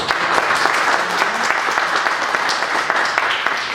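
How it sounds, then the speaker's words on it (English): An audience at a Day of the Dead community event claps in thanks, close and fairly loud, a dense patter of hands that stays steady from start to finish. "So a round of applause."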